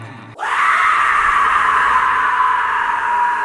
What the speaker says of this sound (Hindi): अचानक से हंसने की और चीखों की आवाज़ें आने लगी।